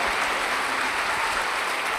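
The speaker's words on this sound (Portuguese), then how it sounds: "Aplauda o Senhor, fique de pé no seu lugar." A church congregation applauds continuously, a dense, even roar of many hands clapping at steady loudness throughout.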